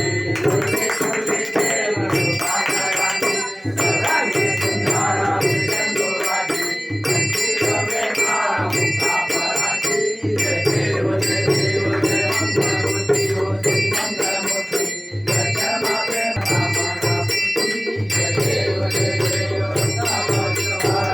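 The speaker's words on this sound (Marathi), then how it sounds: "डाव्या हाताने घंटी वाजव" Hand bell rung continuously during a Satyanarayan puja, a bright, rapid ringing that persists throughout under chanting voices and other ritual sounds.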